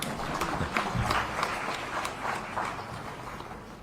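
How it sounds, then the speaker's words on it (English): An audience at a public-administration institute event claps for the organizers, a dense, moderately distant patter of many hands that holds steady for a few seconds. "Yeah, you can clap for them."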